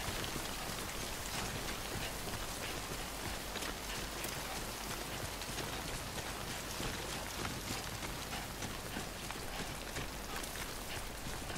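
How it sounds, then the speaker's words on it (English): Heavy rain falls steadily in the video game Death Stranding, a dense, even hiss of drops pattering on surfaces that continues unbroken at a soft, constant level with no voices. "It's raining a lot."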